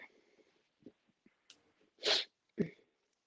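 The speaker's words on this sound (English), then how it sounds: "Okay, well, I was about to sneeze." A single sharp sneeze bursts out after some quiet breaths and small movements, followed by a shorter sniff or snort.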